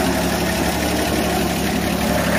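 Steady, rumbling idle of a 1966 Chevrolet C10 engine fitted with a new carburetor, loud and close, with a constant low throb and no talk.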